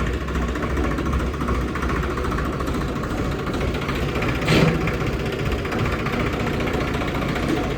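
A farm tractor's engine runs steadily at mid distance, a continuous rumbling drone with a brief louder swell partway through.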